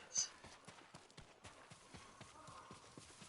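Horse hooves clip-clopping in the video game Ghost of Tsushima, a steady galloping rhythm of soft thuds with a brief bright chime at the start, under a quiet speaking voice.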